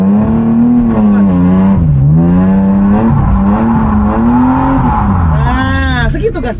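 A car engine on a drifting school course revs hard and steadily, pitch sweeping up and down as throttle is fed and eased, loud and continuous, with an instructor's voice speaking over it.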